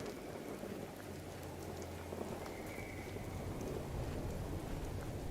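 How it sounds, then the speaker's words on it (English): Rain with low rumbling thunder from the weather effects in the video game Fallout 76, a steady dense patter of rainfall under a continuous low roll of thunder, fairly quiet and without talk. "the thunder effects honestly sound legit on the headset"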